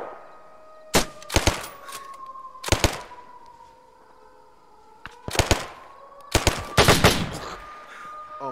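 Video game gunfire in a WWII setting with German troops on a road comes in sharp, loud bursts of shots with gaps between them. A faint tonal hum runs underneath.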